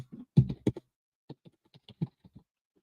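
Sparse typing on a computer keyboard, a few quick clusters of soft key clicks separated by short pauses, close and quiet.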